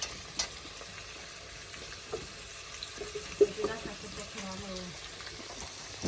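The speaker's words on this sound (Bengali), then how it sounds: "আলুর সাথে পেঁপেগুলোও দিয়ে দিই পেঁপেগুলো তো একটু বেশি ভাজা লাগবে" Potatoes and papaya fry in oil in a home kitchen, a faint, low sizzle broken by scattered soft clinks and taps of a utensil, with no clear talk.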